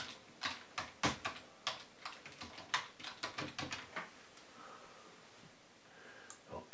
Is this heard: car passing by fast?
no